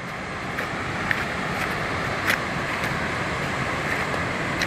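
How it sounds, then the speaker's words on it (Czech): Fiordland waterfall rushing as a constant, even broadband roar that fills the whole span, with a few faint clicks and taps on top and no talking. "Docházíme vodopádem, který už jste včera viděli."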